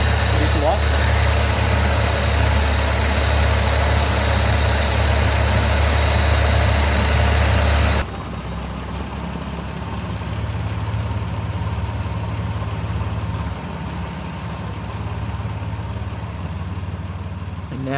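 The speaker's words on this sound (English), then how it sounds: "Now with the engine running smoothly" A rally car engine idles steadily, first rougher and louder before carburettor tuning, then after an abrupt cut it runs smoother and quieter, a continuous low mechanical drone throughout.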